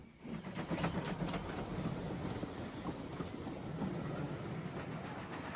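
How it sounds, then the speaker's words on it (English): Model railway steam engine running along the rails, a steady rumbling chug with hiss and faint rhythmic clatter, moderately distant and unaccompanied by speech. "Stepney puffed away."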